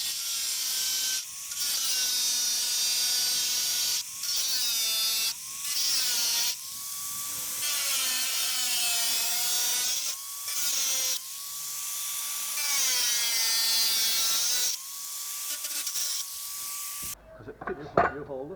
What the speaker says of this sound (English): The angle grinder and cutting disc make quick work of cutting it out.